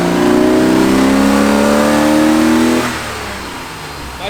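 Supercharged car engine, retuned with added timing and with its supercharger belt off, revs loudly and steadily for almost three seconds before dropping back to a lower idle.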